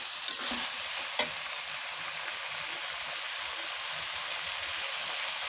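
Vegetables sizzle steadily in a frying pan while a spoon stirs them, with a couple of sharp scrapes near the start over a constant hiss.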